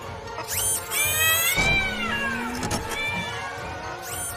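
A cat meows repeatedly, with several drawn-out, wavering cries and a few shorter calls in irregular succession, close and fairly clear over a low background hum with no talking.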